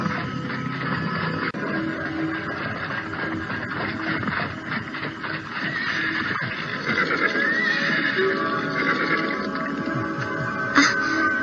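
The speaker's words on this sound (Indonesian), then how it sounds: "itu suara kereta kuda datang." A horse whinnies over a steady clatter of hooves and rolling wheels as a horse-drawn carriage draws near, fairly loud and continuous.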